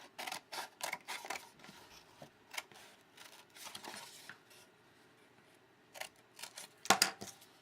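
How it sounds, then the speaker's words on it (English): Big scissors cut out paper craft pieces for a Valentine project in a series of close, crisp snips and rustles, pausing midway before a louder sharp cut near the end, with no talk. "I'm going to use my big scissor and go all the way down and cut those out"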